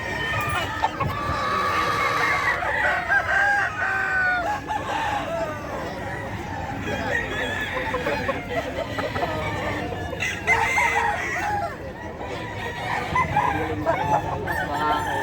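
Boston White roosters crowing over a busy pet market in Bocaue, several overlapping crows and clucks rising from a dense crowd of fowl, with people talking nearby throughout.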